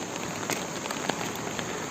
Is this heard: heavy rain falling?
yes